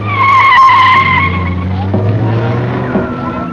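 Rally cars set off at the start of the 1974 Lebanon-Syria Rally into Beirut traffic, among them a Porsche, a Jensen Healy and Renaults; loud engine roar with squealing tires as cars pull away, under talk.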